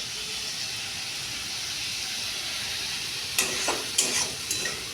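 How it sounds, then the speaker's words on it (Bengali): Spices and ginger paste frying in a pan for ghugni, a pea and potato curry, with a steady quiet sizzle and hiss, then a few scraping stirs near the end. "এই জন্য মশলা গ্যাসকে সিম করে মশলা ভাজবে"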